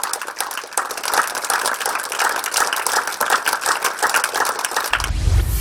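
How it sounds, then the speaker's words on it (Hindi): An audience at a gathering at Panchashil Buddha Vihar claps steadily in dense, continuous applause, loud and sustained, with a low thump near the end. "आप फिर से मेरे लिए तालियां बजा दें।"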